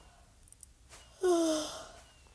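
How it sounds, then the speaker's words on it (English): A single soft yawn, a breathy drawn-out exhale lasting about half a second, heard close and alone after a few faint clicks. "Got the yawn there."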